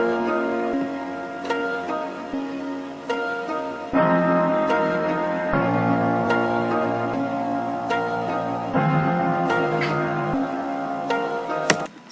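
A pitched-up melodic sample run through Gross Beat in FL Studio for a slowed, stretched feel in a trap beat, with sustained layered tones and section changes, heard alone over twelve seconds.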